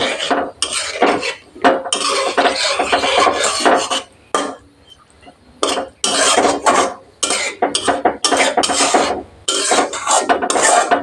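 Roasted spice powder is stirred into a vegetarian pointed gourd curry in a pan, giving loud, close rasping scrapes of a spoon in bursts with brief pauses and a short quiet stretch midway.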